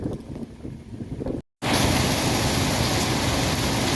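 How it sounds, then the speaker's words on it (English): Strong wind roars during a thunderstorm with heavy rain, a loud, dense, continuous rush buffeting the microphone, quieter at first, then briefly dropping out before surging back at full force. "The wind's getting crazy again."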